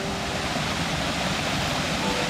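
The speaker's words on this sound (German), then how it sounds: "Hört ihr das Rauschen vom Sankenbach Wasserfälle?" Loud, steady roar of the Sankenbach waterfalls in the Black Forest nature park, a dense continuous rush of falling water heard close by with no voices.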